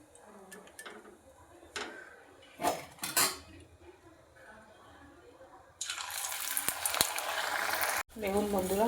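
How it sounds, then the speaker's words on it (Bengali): Cauliflower kachori deep-frying in a pan: a few clinks of utensils against the pan, then a loud, steady sizzling hiss that fills the second half, with a voice briefly at the end. "এরকমভাবে প্রত্যেকটা ভেজে নেব"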